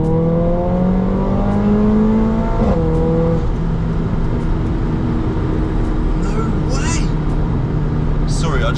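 A stage 3 hybrid turbo Mercedes A45 accelerates hard on a timed run, engine rising in pitch through gear changes, loud and continuous from inside the car, with whooshing turbo and wind noise.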